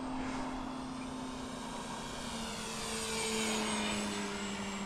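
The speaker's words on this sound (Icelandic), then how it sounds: "Flugvélinn." Propeller airplane flying overhead at Arnarvöllur airfield, a steady droning engine tone with slowly shifting pitch as it passes, moderately distant and continuous throughout.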